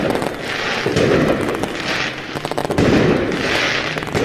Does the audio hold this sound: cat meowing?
no